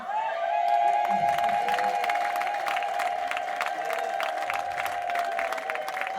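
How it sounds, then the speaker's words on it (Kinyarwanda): A congregation at a Sunday church service ululates and cheers loudly, with a sustained high trilling ululation over rhythmic clapping and crowd shouts, continuing throughout. "Nagira ngo ababyeyi bamfashe bavuze impundu cyane."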